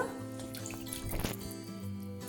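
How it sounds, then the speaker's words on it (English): Water runs steadily from a tap as hands are rinsed clean of a homemade scrub, a continuous close hiss with a slight swell midway and no voices. "after a couple of minutes, okay, you have just to rinse your hands"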